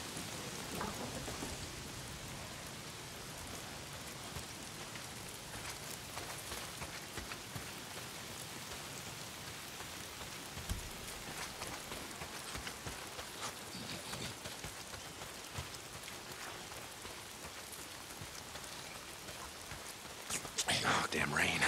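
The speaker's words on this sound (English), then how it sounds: "If it's not the freaks, it's the goddamn rain. Why is it always raining?" Steady, dense rainfall in the video game Days Gone hisses continuously across the whole stretch, with a brief louder burst near the end; no voices.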